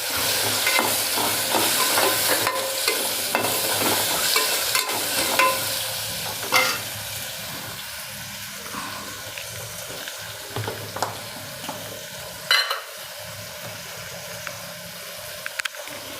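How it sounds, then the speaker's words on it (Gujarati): Guava and potato pieces stirred and fried in hot oil in a pan, a continuous close sizzle with scraping spoon strokes and occasional louder clinks, gradually settling quieter. "હવે આપણે જમરૂખ અને બટેકા નાખી દઈશું પહેલાં તેલમાં ફેરવી લઈશું"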